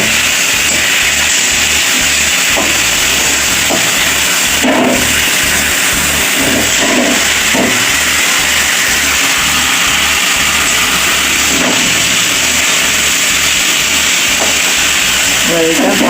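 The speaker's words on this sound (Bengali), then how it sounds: "একদিকে মাছ ভাজা হচ্ছে" Silver pomfret fish fry in hot oil in a Bengali home kitchen, giving a loud, steady sizzling hiss throughout with a low pulsing hum beneath and no clear talk.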